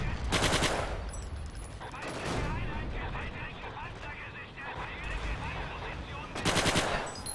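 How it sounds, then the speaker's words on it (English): Bursts of automatic gunfire from the WWII shooter Forgotten Hope 2, loud and close, with heavy volleys at the start and end and steady firing between, under a talking player. "Why do I keep shooting at my own guys?"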